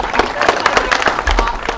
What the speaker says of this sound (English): can we give a round of applause to Sandy?